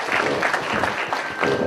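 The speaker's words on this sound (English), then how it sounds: "So give yourself a round of applause," Audience round of applause filling the room, dense steady clapping from a crowd, fairly loud and continuous with no voices over it.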